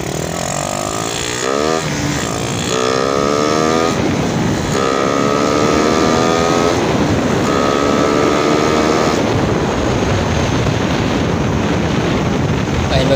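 A Raider 150 motorcycle accelerates hard through several gears, its engine note climbing in repeated rising sweeps with brief dips between shifts, loud and close throughout with no talking.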